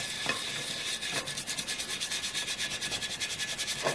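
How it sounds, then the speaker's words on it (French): Small brush scrubbing kitchen utensils with very hot water, a close, steady rhythmic rubbing with quick regular strokes that speed up toward the end, with no talking. "avec de l'eau très chaude, elle va venir avec une petite brosse, hop, frotter"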